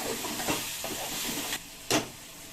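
Tomatoes going into a pan of jackfruit gravy set off a soft sizzle and hiss, with a few stirring scrapes and two sharper bursts near the end, no voices.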